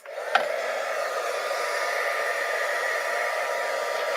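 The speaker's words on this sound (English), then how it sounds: "So I am just going to heat up my gun." A steady, loud blowing whir of an embossing heat gun runs continuously after a brief click at the start, with no talking.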